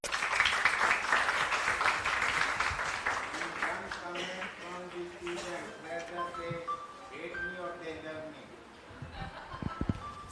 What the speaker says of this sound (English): We have a round of applause, please